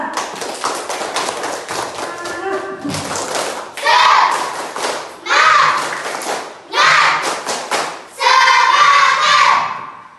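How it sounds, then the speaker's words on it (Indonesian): A classroom of children claps in several uneven bursts, the clapping swelling and fading, with kids' voices and chatter mixed in between. "Tepuk tangan untuk semua."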